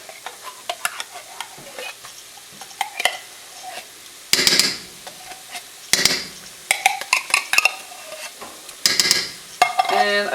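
A spoon stirs two cans of cream of mushroom soup into cooked hamburger in a pan, giving repeated scraping and clanking strokes in bursts over a soft sizzle, close and fairly loud.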